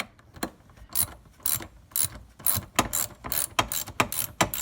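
A ratchet socket wrench loosens bolts on an E36 BMW seat, clicking in quick rapid bursts with short pauses between strokes, close and clear with no talk.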